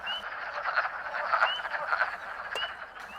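Frogs croaking in a steady chorus during the spring amphibian migration near a woodland road and swamp, a dense continuous trilling at moderate distance with a few brighter calls standing out.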